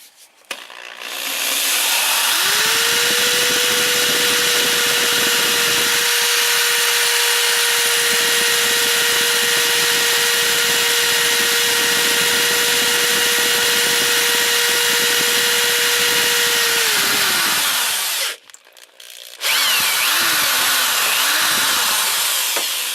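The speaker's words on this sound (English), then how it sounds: "Another junk fucking drill, but I go through these drills like candy" A worn power drill boring a hole while fitting a second alternator to a 1989–98 Geo Tracker: a loud, steady motor whine ramping up, holding for about fifteen seconds and winding down, then short follow-up bursts of drilling.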